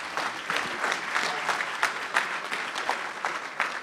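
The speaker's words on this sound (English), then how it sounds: "So please join me in giving a big applause to our panelists." A forum audience gives sustained applause to a panel, a steady mass of clapping in a large room with a few sharper individual claps standing out.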